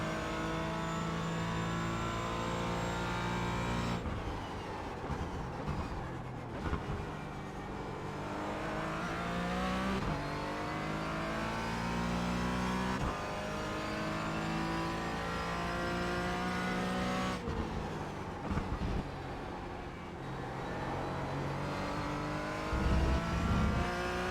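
A race car in the sim racing game iRacing runs continuously with a loud, close engine that revs and climbs through gear changes, dropping and rising repeatedly under hard acceleration with no voices.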